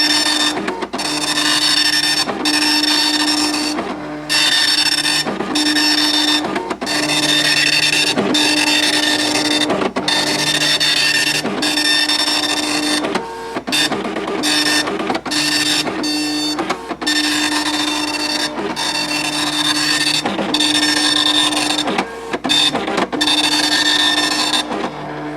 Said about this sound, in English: I really like how this printer sounds. It is a 24 pin and it just sounds so crisp and precise